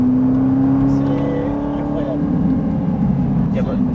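A Ferrari 458 Italia on a track at Dreux goes from a steady drone to a rising, strengthening engine roar as it pulls away, while someone talks over the engine.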